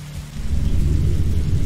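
Heavy rain and a low rumble of thunder in the video game Dinosaur Arcade Real, a steady dense downpour that swells into a deep rolling roar, with no voices over it.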